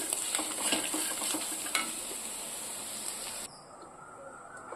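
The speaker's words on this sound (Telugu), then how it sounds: "ఇంకా మనం దీంట్లోకి రైస్ కలిపేసుకోవటం" Rice being stirred into a hot lemon rice tempering of fried seeds and asafoetida, with a steady close sizzle and scraping stir strokes that drop to a quieter hiss near the end.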